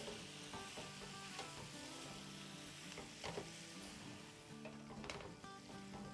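Malai tikka boti sizzles and fries steadily in a pan over a low flame. Scraping and clinking from the stirring break in now and then, and no one speaks.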